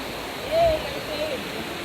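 Moving river water at Roaring River in Westmoreland, Jamaica rushes in a steady broadband wash, brief and continuous, with a slight swell partway through.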